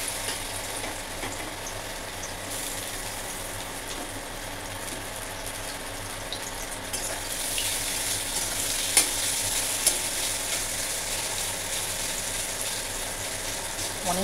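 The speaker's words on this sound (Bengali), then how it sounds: "তেল গরম হয়ে গেছে, এবার আমি এর মধ্যে আস্তে আস্তে উচ্ছেগুলো ছেড়ে দেবো।" Bitter gourd slices frying in hot oil, a constant close crackling sizzle that swells a little louder about halfway through, with a couple of faint utensil taps and no speech.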